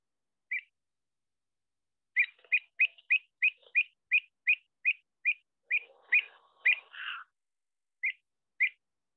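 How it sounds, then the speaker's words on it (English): An avocet's call in recorded playback: a series of short, clear, high-pitched piping notes repeated in a quick, steady run. A few isolated notes come before and after, against near silence. "that's the sort of call you hear from an avocet"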